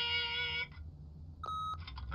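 An answering machine in The Wolf Among Us video game gives short electronic beeps: a sustained tone, a pause, then a second higher beep, clear and close with no talking.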